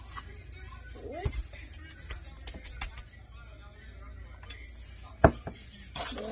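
Meat is flipped on a Char-Griller Premium Flat Iron griddle, with sparse metallic clinks and scrapes of a spatula, one sharp clank standing out, against a quiet background.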